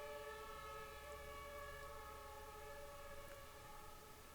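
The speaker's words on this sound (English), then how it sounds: "it's not an ambulance, it's a fire truck. It's actually an entire fire convoy" A convoy of fire trucks with sirens wailing at a distance, a steady layered tone sustained faintly and continuously without any speech.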